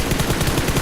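Rapid gunfire in a shooting video game, a fast, loud automatic burst of evenly spaced shots filling the short moment, with no voices.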